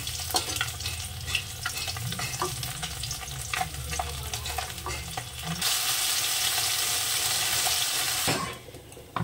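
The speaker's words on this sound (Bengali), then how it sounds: "বাদ বাকি মাছ কটা আমি এভাবে ভেজে নেব" Bele fish fry in oil with a continuous nearby sizzle and scattered stirring taps. The hiss swells louder partway through, then briefly cuts out near the end.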